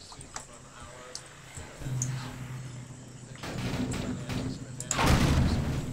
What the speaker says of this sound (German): nur Schüsse